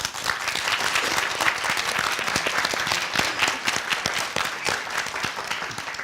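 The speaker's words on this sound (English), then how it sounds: "All right, let's give Insem a big round of applause." A crowd applauds a contestant on a competition show, dense overlapping claps at a steady moderate level throughout, no voices over it.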